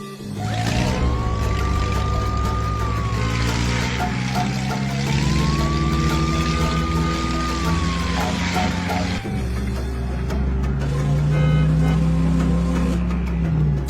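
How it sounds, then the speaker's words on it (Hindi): A cartoon car drives along with a siren wailing in rising and falling sweeps over a steady engine hum, loud and continuous under background music. "गाड़ी निकालो टीनू और बाबा के घर चलो"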